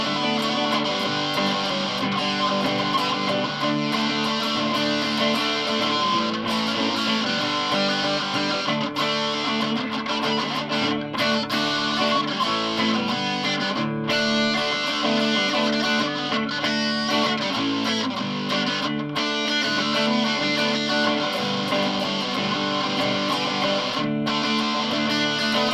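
Distorted electric guitar looped through a basic loop pedal, dense layered chords and riffs playing continuously and loudly for the whole stretch, with no talk.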